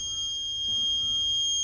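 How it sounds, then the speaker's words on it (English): A campervan's steady high-pitched electronic warning buzzer sounds continuously, close and fairly loud, with a faint low rumble beneath, warning it is still plugged into power. "So you basically get a warning buzzer,"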